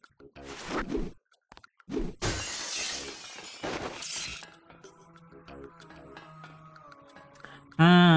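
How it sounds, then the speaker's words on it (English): Glass in a video game is bashed and shatters in several loud crashing bursts. The breaks are spaced between quieter gaps, and game sounds and a musical tone follow at the end. "I could just shoot this glass, I guess, or I can bash it."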